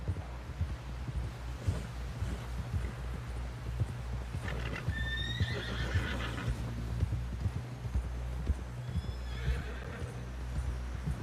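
Rapid horse hooves galloping in a steady rhythm in Red Dead Redemption 2, with horse whinnies and snorts rising over the pounding, no talk.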